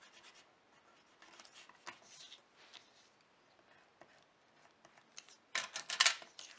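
An eraser rubs out pencil lines on paper in soft, scratchy bursts of scrubbing, faint and close, ending in a louder, quicker flurry of rubbing.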